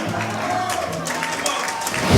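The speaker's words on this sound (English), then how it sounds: "the crowd quite rightly giving a lot of plaudits to that man in the ring" Wrestling crowd applauding and cheering around the ring at a live match, dense clapping mixed with crowd noise and a voice over it, swelling louder at the very end.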